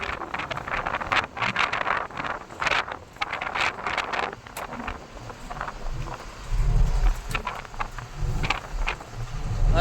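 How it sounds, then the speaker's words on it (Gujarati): Strong wind at a high viewpoint in Rajasthan buffets the microphone in uneven gusts, with low rumbling surges that swell and fade over about ten seconds. "અત્યારે ફૂલ પવન ચાલુ છે કેમ કે આપણે ઊંચાઈમાં જ એટલા છીએ."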